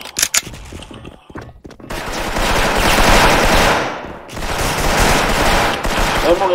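Video game gunfire: a few sharp early shots, a short lull, then long sustained bursts of loud automatic fire with a brief dip before the shooting resumes.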